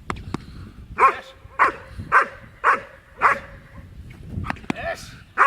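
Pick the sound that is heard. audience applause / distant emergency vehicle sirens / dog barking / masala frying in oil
dog barking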